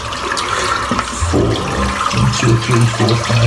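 Running water rinses lather out of a Morrison shaving brush, a steady, close splashing stream with gurgling shifts as the brush moves under the flow.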